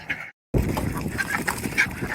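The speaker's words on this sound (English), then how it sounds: "He's telling me which duck not to kill." Ducks on a farm quack and honk close by in a busy, overlapping run, broken by a short silent gap near the start, with a little background voice.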